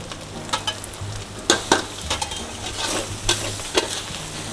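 Noodles stir-fried in a pan with pink yen ta fo sauce and dark soy sauce, a loud continuous sizzle broken by sharp spatula scrapes and clacks at an uneven pace, no voices.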